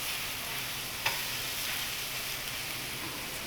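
Chicken stirred in a pan, a steady close hiss of sizzling fat with one small tap of a utensil early on and faint movement beneath, no one speaking.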